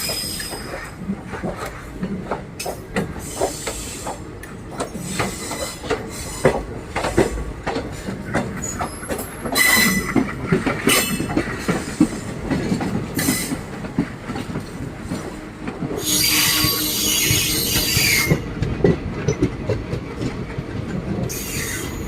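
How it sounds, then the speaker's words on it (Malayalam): A train on the Punalur to Nagercoil line runs alongside the Malabar Express on the adjacent track, giving a continuous close rumble with rhythmic clickety-clack, metallic clunks and a burst of hissing near the end, with no talking. "നമ്മുടെ ട്രെയിൻ ഇപ്പോൾ ഇതൊരു പാരൽ റൺ നടത്തിക്കൊണ്ട് നിൽക്കുകയാണ്."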